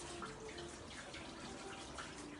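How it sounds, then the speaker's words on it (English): Tap water runs steadily into a sink while hands are washed with warm water and soap, a continuous close splashing flow with no talk over it. "Warm water, soap, rub them together."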